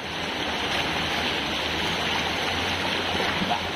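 Strong water current rushing past in a steady, loud, unbroken roar, with no voices over it.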